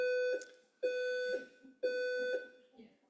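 A fire alarm sounds during a conference panel, repeating three loud, steady electronic tones, each about half a second long with short gaps, ringing in a reverberant room.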